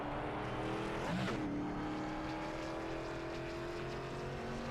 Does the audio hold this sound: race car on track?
yes